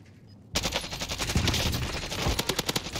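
Rapid automatic gunfire from Call of Duty Warzone starts abruptly after a short quiet moment, then continues as dense bursts and sharp cracks, loud and close.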